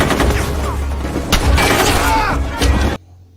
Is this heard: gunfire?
yes